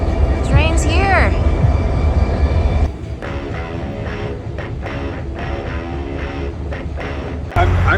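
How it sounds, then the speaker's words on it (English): The Copper Canyon train pulls into the station with a deep rumbling roll and a rising, wavering horn blast at the start, then a steady close rumble of cars passing, with people talking over it. "Train's here!"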